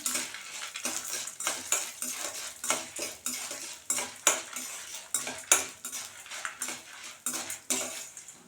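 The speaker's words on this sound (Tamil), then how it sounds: "இது வறுபட்டு இருக்கும்போதே ஒரு நாலு காஞ்ச மிளகா பெருசாக நான் சின்னதாக இருக்கிறதுனால ஒரு ஆறு மிளகா போட்டிருக்கேன்" Urad dal and dried red chillies are dry-roasted in a pan while a metal spatula scrapes and taps the pan in a quick, steady rhythm of close, clattering strokes. No one speaks.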